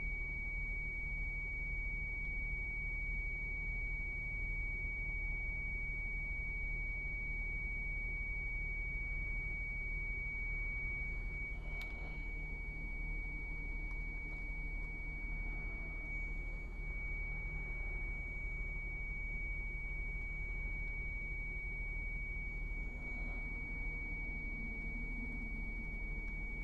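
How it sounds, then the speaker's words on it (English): A steady, high electronic car dashboard alert tone holds throughout over a constant low road rumble, with no speech. "It's the alert from the dash."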